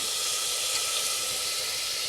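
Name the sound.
green peas added to sizzling ginger-garlic masala in pan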